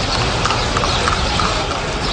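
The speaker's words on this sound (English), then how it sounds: "get pulled by a horse" Hooves of a horse pulling a cart in Cuba clip-clop steadily and loudly close by, a brisk rhythmic clatter over a background din with no clear talk.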